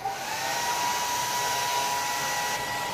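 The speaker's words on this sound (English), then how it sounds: "I'm going to start up the hair dryer for him." A hair dryer set on low blows steadily while drying a pet rooster, a constant close whir with a thin, even whine and no variation throughout.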